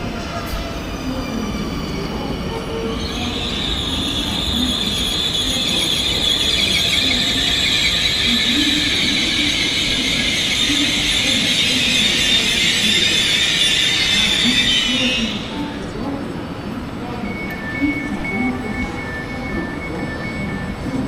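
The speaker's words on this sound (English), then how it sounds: "here comes our train" A Dutch Railways NS Eurocity Direct train, an Alstom Intercity New Generation, rolls into a station with a loud, sustained high-pitched wheel squeal over rumbling, which cuts off as it slows, leaving low mechanical hum.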